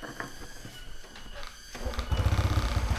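A Honda Revo 110 motorcycle engine under restoration sputters to life partway through and settles into a steady, throbbing low idle, with faint background noise before it starts.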